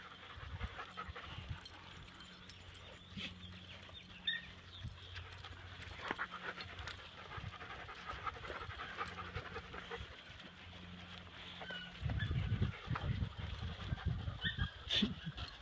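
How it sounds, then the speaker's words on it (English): A Husky and a Golden Retriever pant steadily nearby in rhythmic breathy bursts, with faint scuffling and a louder rustling burst near the end. "We got Jake the Husky and Jake the Golden Retriever."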